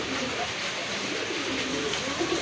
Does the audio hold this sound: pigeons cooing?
yes